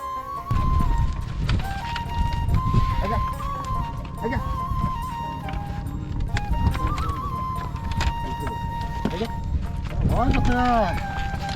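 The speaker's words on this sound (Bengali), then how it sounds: "চর থেকে এভাবে ঘোড়ার গাড়িতে করে পেয়ারাগুলো নিয়ে যাবে শহরে" A horse-drawn cart loaded with guavas moves across a river char, its hooves clip-clopping in an uneven rhythm. People talk nearby throughout.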